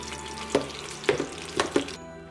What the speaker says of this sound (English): Fry it a bit until fragrant.